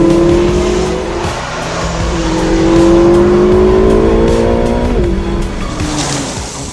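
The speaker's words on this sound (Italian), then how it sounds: "In questa prima parte stiamo sfruttando principalmente le doti di ripresa del nuovo V8 Ferrari" Ferrari California Turbo with a turbocharged V8 accelerating on a road, a loud, close engine note climbing steadily through the revs, then a gear change and a fresh climb as it keeps pulling.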